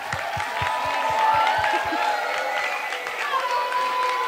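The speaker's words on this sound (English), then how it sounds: "So one round of applause for them." Applause from a school audience at a health and food session, a dense wash of many hands clapping with scattered whoops and crowd noise, loud and continuous throughout.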